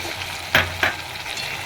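Vegetarian potato curry frying in a pan with ghee as garam masala is added, a steady close sizzle with two brief louder bursts of stirring or scraping, no voices.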